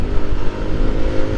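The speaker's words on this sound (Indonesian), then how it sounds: "Bawa motor, mudik pakai motor ke Malang" An automatic motor scooter rides along the road on a long-distance holiday trip from Purwakarta to Malang, its engine droning steadily and close under heavy wind rumble, with no voices.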